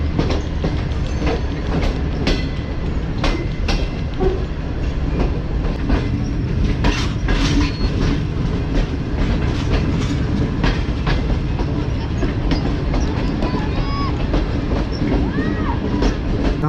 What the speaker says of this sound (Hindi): यहाँ से देखते हैं अब कैसे गुजरती है गिलियन एक्सप्रेस